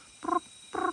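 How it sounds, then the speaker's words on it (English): Flying frogs call in the forest at Fraser's Hill: two short, rough, throaty croaks, evenly spaced, fairly clear and close, alone over a faint hiss. "I can hear the flying frogs calling around."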